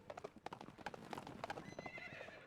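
A ghost horse ride in the Shantae and the Pirate's Curse video game: quick, regular clip-clop hoofbeats with a short whinny near the end, clear and steady.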